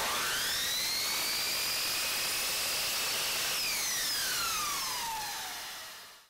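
A miter saw slices a 22.5-degree angle through polyurethane crown molding, a loud steady high whine with a sustained cut that drops in pitch as the blade spins down and fades out alone.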